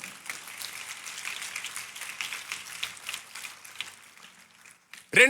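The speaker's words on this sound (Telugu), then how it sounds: "దేవునికి ఒకసారి గట్టిగా చప్పట్లు కూడా" A church congregation claps loudly together, a dense, steady burst of applause lasting several seconds that fades out before a brief sharp voice at the end.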